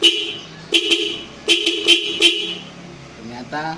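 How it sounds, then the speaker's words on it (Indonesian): A Denso aftermarket car horn blares in several short toots, one long blast and a quick double honk, loud and close, with someone speaking briefly in between. "Setelah klakson Denso terpasang, ya, kita coba dulu."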